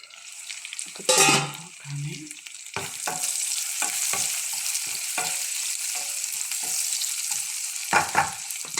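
A spoon stirs chicken curry with cloves and star anise in a hot pan, giving a steady close sizzle broken by scraping strokes and a couple of louder clanks.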